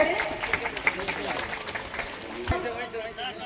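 An audience at a Fatuha Jeevika Didi employment fair inauguration claps to welcome a guest, the applause moderately loud and mixed with voices and crowd murmur, with one sharp thump partway through.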